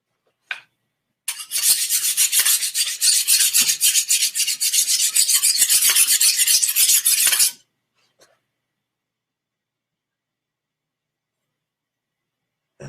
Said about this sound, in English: the sound of a mini sword being sharpened on a steak and knife sharpener